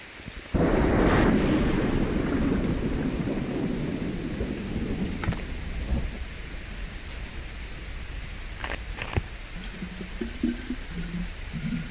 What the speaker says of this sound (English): That rain is literally the last thing we needed